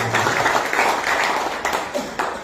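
A church congregation at a Sunday service clapping together, with a brief burst of dense, fairly close hand claps that fills the whole short moment.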